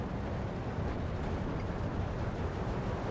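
A Pak-40 anti-tank gun fires at a T-34-85 tank in the strategy game Steel Division 2, heard as a dense, loud, continuous roar of battle noise with no distinct separate shots.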